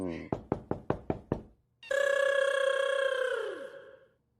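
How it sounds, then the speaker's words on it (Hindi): Six sharp, evenly spaced knocks on a door at night, loud and close, followed by a long sustained tonal sound after a short pause. "कौन खटखटा रहा है दरवाजा?"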